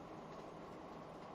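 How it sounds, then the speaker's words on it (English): Trains running in the Transport Fever video game make a continuous, dense rolling rumble, steady and fairly loud for the whole brief moment, with no one talking. "And we'll get this train running here again."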